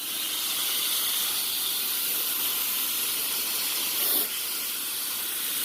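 A water spray blasts through a walk-in freezer coil, a steady close hiss that holds level and surges briefly near the end.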